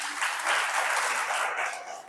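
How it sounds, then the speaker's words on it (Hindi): Audience applause at a spiritual class in Kidwai Nagar, Kanpur: a steady wash of many hands clapping, fairly close and continuous for about two seconds, tapering slightly at the end. "ताली तो बजाओ।"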